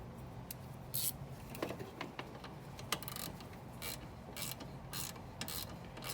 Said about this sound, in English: we just get the 12mm without the extension. We go ahead and tighten the alternator bolt.